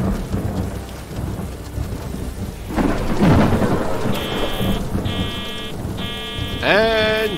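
Thunder rumbles over steady rain in a stormy scene from the video game Mystery Trackers, with a heavy crack near the middle and a few electronic tones later on.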